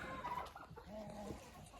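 Hungry hens cluck softly in a farmyard, a faint, low run of murmuring calls with no talking over them.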